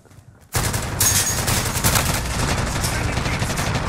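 Dense rapid gunfire in a multiplayer shooter video game bursts in suddenly after a near-silent moment, then keeps rattling loud and continuous with overlapping shots, explosions and echoes.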